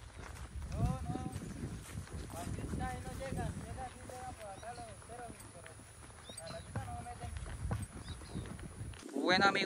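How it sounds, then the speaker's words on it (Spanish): A quarter horse's hooves clip-clop in a steady walking rhythm on the ride toward a river, close and continuous, while someone talks over them. "Nos queda como 15 minutos a caballo."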